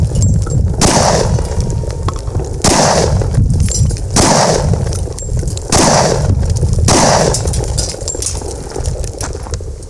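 Gunshots at an outdoor shooting range, five loud close blasts spaced a couple of seconds apart, each with a sharp crack and a rumbling tail over steady wind noise.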